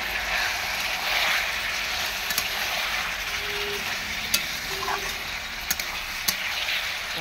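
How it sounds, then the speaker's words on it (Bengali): Meat being sautéed in a pan for a village-style dish, a steady broad sizzle running throughout with a few faint spoon scrapes, close and moderately loud with no talking. "মাংসটা একটু ভালো করে কষিয়ে নেব"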